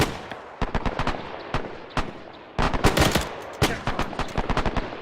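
Gunfire in Arma 3 during a WWII-era platoon training exercise: sharp bursts of rapid automatic fire and single shots crack out in clusters, loud and close, with quieter gaps between volleys.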